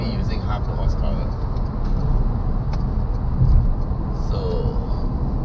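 A Renault Zoe electric car hums along the road with a constant low rumble of road and cabin noise as it accelerates. A person talks over it throughout.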